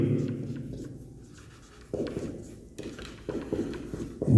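Pen scratching on paper as a circle circumference formula is written out, soft scratchy strokes in short bursts with pauses, close and fairly quiet.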